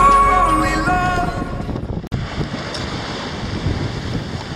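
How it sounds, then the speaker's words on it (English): A sailboat moves through small waves in an offshore breeze, with steady rushing water and wind noise buffeting the microphone, after the fading end of a sung song and one sharp knock. "The wind is perfect, offshore wind, not too much wave."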